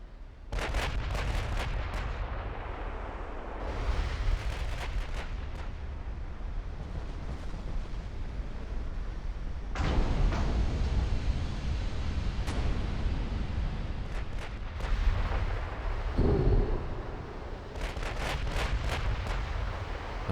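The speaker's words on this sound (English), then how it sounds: "I think that one shell is gonna hit." Naval shells hitting ships during a battle in the warship game Ultimate Admiral: Dreadnoughts, heavy booming impacts and rumbling blasts rolling across the whole stretch, with sharp crackling bursts near the start and end, no voices.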